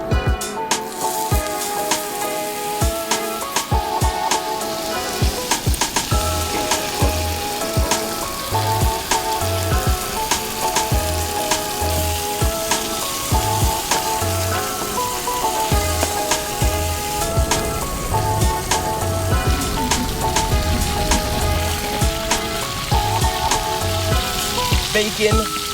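Bacon-wrapped bass and jalapeño cheddar poppers frying on a cooker, a loud, even crackling sizzle that runs the whole time with dense popping like rain on a surface, no voices.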